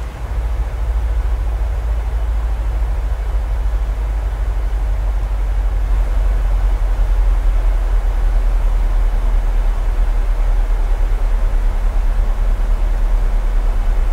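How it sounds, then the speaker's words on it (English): A steady, heavy engine roar with a deep low rumble from Boeing 737 jet engines spooling down during descent in a flight simulator runs throughout, broad and unbroken, with a faint hum joining partway through. "Did you hear the sound of the engines, you know, spooling down like that?"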